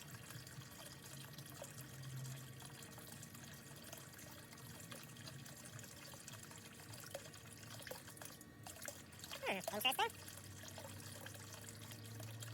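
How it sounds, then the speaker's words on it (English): Water flowing steadily from the pipe of a cheap homemade greenhouse heater in winter, a faint continuous trickle that swells into a brief louder gurgling rush near the end. "Still seems to be flowing quite a bit of water here."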